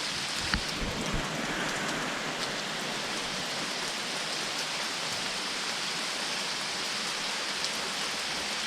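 Steady heavy rain pours down on surfaces around a camp beneath a neighbor's cabin, a dense continuous hiss with occasional louder drops, no thunder standing out.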